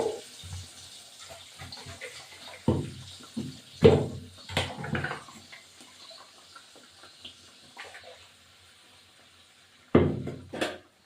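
Water poured into a cooking pot for a chicken dish, splashing in a few irregular bursts with clinks of the pot between quieter gaps, close and without talk.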